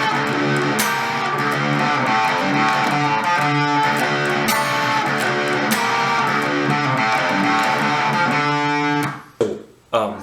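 An electric guitar plays the intro riff with a driven tone, a repeating rhythmic pattern of picked notes for about nine seconds, then stops suddenly, leaving a few muted clicks.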